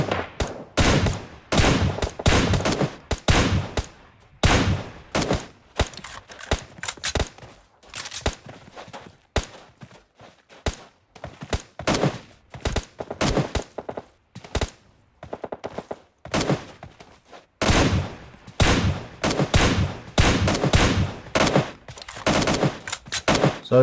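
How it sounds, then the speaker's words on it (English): An M4 rifle in a video game fires in short controlled taps, sharp close shots repeating in quick clusters with brief pauses between bursts, heard alone without talk. "Putting in some tap fire with the M4."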